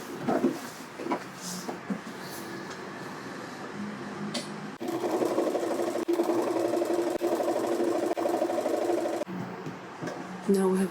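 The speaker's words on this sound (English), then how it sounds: "Take it to your machine and sew this seam down right" Sewing machine stitching down a seam on a fabric bag, its steady motor hum running in bursts with a long continuous stretch in the middle, near and clear, with faint background voice at moments.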